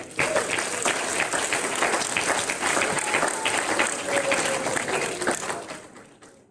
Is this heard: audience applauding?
yes